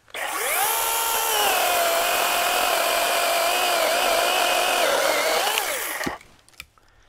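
DEWALT 20V MAX 8-inch cordless saw cutting through a tree branch, a loud, steady high-pitched whine that ramps up, holds for about five seconds, then winds down, followed by faint knocks.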